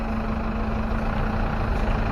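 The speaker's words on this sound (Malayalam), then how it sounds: "ഒരു ട്രാക്ടർ വരുന്നുണ്ട് കണ്ടോ" A tractor engine on a mountain road near Kudajadri gives a steady, heavy, loud drone that stays constant and close throughout.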